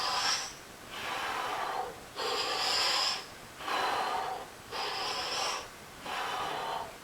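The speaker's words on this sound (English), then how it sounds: "Breathing in on the way down and breathing out on the way up." Heavy exercise breathing during chest push-ups: five slow, loud, close breaths alternate steadily with short pauses, each a rushing, slightly nasal exhale-and-inhale with no talking.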